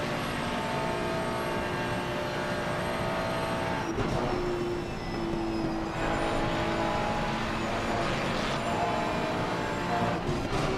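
A race car engine roars steadily down the Mistral straight at Paul Ricard in a sim racing game, a dense continuous drone with rising and shifting tones throughout, loud and unbroken.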